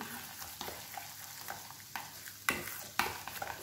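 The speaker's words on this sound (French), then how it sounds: "Et là, vous mélangez le tout." Mashed potato and broccoli are mixed with truffle oil, giving soft, fairly quiet scraping stir strokes at an irregular pace over a faint background hiss, with two firmer knocks near the end.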